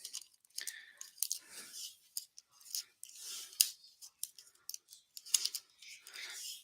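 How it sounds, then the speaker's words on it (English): Cards for a tabletop racing game being shuffled by hand, a run of crisp papery riffles and flicks in uneven bursts, close and fairly quiet, with no talking. "shuffle the driver's cards"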